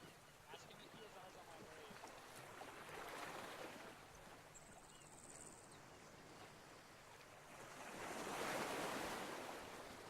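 Loud rushing river water in the video game ArmA 3, a steady broadband wash with two louder swells, carrying on without a break and heard alone with no talk.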